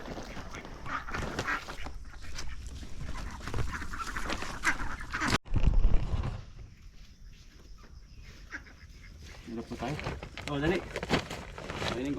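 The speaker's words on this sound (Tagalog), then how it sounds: "Para po sila may makakain yung mga itik na yan." Domestic ducks honk and quack while being fed grain, the flock's calls mixing with someone speaking throughout and a brief loud thump midway.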